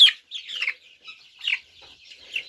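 A hen and rooster cluck in short, repeated bursts close by, with brief pauses between the calls.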